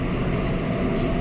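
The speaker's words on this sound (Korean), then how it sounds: "오늘은 지하철을 이용해 이동했습니다" Steady low rumble of a Seoul subway train running, continuous and fairly loud throughout with no speech.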